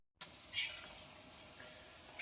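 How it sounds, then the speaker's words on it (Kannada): Karchikayi, wheat-flour sweet dumplings, frying in hot oil, giving a soft continuous sizzle with a brief stir or bubbling flare near the start, quiet and close with no talking. "ಈಗ ಒಂದು ಅರ್ಧ ಮಾಡಿ ಕರ್ಚಿಕಾಯಿ ಕರಿಯಾಕತ್ತೇವಿ"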